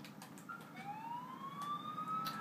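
Ambulance siren in the video game GTA IV: a single rising tonal wail that sweeps slowly upward and holds steady, moderately loud over a background hum of game ambience, with no talk.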